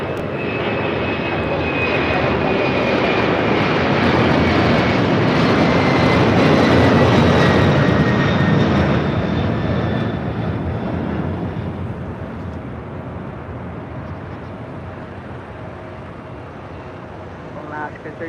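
Airliner roaring down the runway on takeoff at LAX, a loud sustained engine rumble that swells and then fades into the distance as a voice speaks over it.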